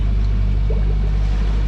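A Beta Marine 50 HP sailboat engine runs at a steady pace, giving a continuous low, droning hum with a rumbling throb throughout and no voices.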